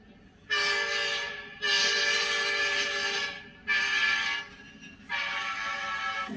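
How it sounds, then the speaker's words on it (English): Diesel freight locomotive sounding its multi-tone horn in four long blasts with short gaps, loud and sustained, with rumbling rail noise underneath. "this is a typical locomotive like you see hauling freight"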